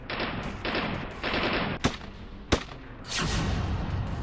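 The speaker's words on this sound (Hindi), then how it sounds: "पाकिस्तान ने पुंछ में की गोलीबारी।" Gunfire and mortar shelling along the Line of Control in Poonch, with 82 mm and 120 mm mortars and automatic and small weapons: sustained bursts of automatic fire broken by two sharp single cracks, loud and without voices.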